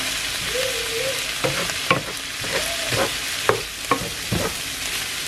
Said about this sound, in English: I could just brown it up and saute it up together